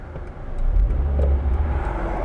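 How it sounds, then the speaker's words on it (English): Cars pass by in traffic on a roadway, a steady loud engine and tire rumble that swells in the middle as vehicles go by close and then stays as a continuous drone. "Cars are coming."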